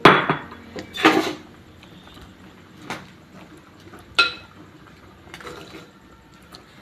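Mango pieces go into a pot of Kerala-style jackfruit seed curry with dried prawns: a couple of close metallic clatters at the start, then sparse faint clinks of utensil on pot, with no talk.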